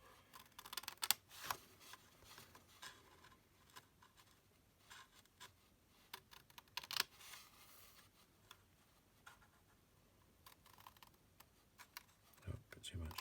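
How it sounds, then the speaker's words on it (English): Ordinary household scissors snipping paper while making Christmas crackers, quiet scattered cuts and rustles with a few louder snips, heard close up between bits of conversation. "ordinary common or garden scissors, like these ones won't cut right to the end"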